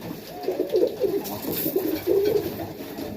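Young highflyer pigeon nestlings coo in soft, low murmuring phrases, close by and continuous, with faint background noise and no talking.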